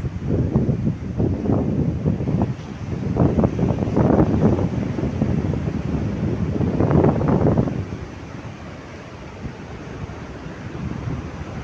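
Strong wind blows over a rough, choppy sea, buffeting the microphone in loud rushing gusts with the wash of waves beneath, easing to a quieter steady roar near the end.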